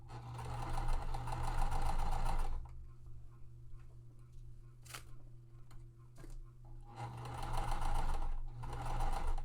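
Sewing machine stitching a quilt seam, a fast rhythmic close whir for a few seconds, a quieter pause with light ticks and handling, then the stitching resumes.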